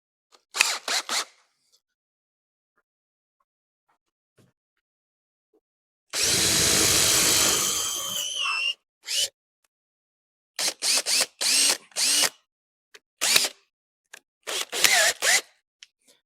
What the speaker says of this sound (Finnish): Saatiin reikä siihen.